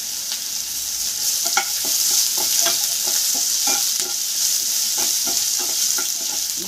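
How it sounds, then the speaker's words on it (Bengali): Chopped onion and crushed garlic fry in a pan for a masala dosa filling, a steady loud sizzle with repeated scraping stir strokes close up throughout. "পেঁয়াজটা একটু ভালো করে ভাজা ভাজা করে নেবো আমি।"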